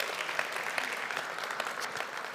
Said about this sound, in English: Whenever that applause occurs, I like to remind individuals we love the applause for our scholars